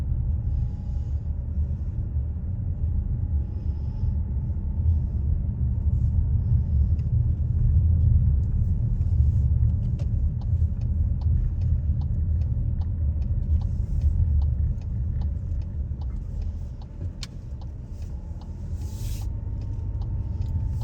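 A car rolls through a residential neighborhood, heard from inside the cabin as a steady low road rumble and engine drone that swells a little in the middle and then eases.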